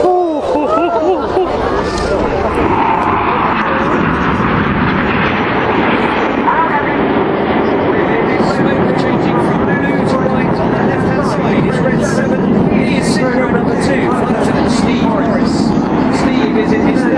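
Red Arrows jets performing at the Sunderland International Airshow 2015 make a steady, loud, continuous roar that lasts throughout, with a public-address announcer talking over it.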